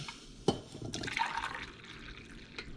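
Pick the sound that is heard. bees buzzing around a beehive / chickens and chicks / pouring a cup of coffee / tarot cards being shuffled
pouring a cup of coffee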